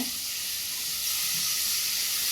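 Two large onions frying in a hot pan for a soya chunk curry, giving a steady close sizzle and hiss throughout with no voices.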